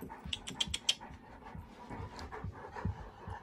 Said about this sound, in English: There is a puppy in here.